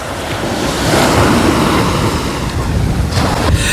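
Sea surf roars steadily onto a shore under a strong, gusting wind that buffets the microphone. The rush stays loud and continuous throughout, with no voices.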